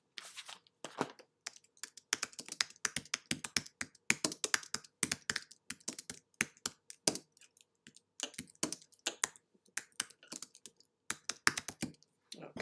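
Someone types a short description on a computer keyboard, a close, crisp run of quick key clicks in bursts with brief pauses between words.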